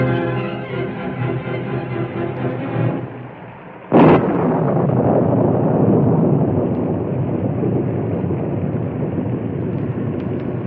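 A storm sound effect in an old western radio drama: fading music gives way to a sudden loud thunder crack, then a steady roaring rush of wind and rain that continues without pause.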